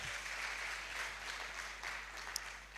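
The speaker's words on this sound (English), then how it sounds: "a round of applause again." Faint, steady applause from an audience at a youth leadership conference, distant and even, ending with a single sharp tap.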